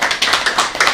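Audience clapping at a hangout gathering, a quick close run of sharp hand claps in an even rhythm, loud and dense with no talking.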